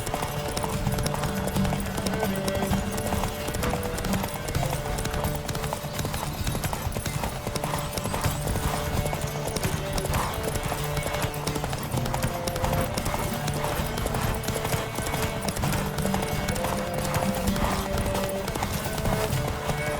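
Galloping horse in The Witcher 3: Wild Hunt, a continuous rapid clip-clop of hooves at a steady pace with game music underneath, with no talk.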